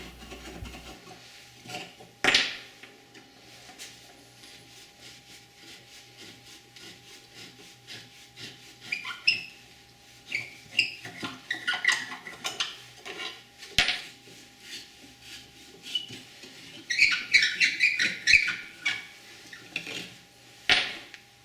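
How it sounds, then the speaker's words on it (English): Rusty screws are worked out of an old wooden child's rocking chair, with close scraping, squeaking and metallic grinding that builds into intermittent bursts of turning and rubbing, and no speech. "I'll start by taking out these rusty screws."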